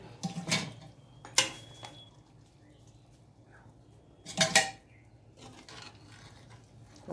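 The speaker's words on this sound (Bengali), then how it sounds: "তো ফাইনালি প্রেশার কুকারে ভরা হয়ে গেছে" Metal pots and utensils clatter while a pressure cooker is filled, several sharp close clanking bursts separated by quiet pauses.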